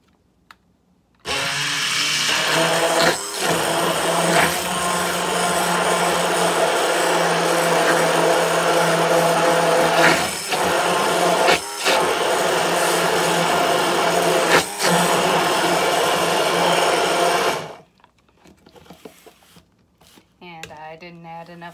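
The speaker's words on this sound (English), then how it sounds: "I do have a lovely immersion blender." Immersion blender whirring loudly and continuously through beets and horseradish for about sixteen seconds, pitch dipping briefly several times as the blade bogs in the mix, then cutting off abruptly into quiet clatter.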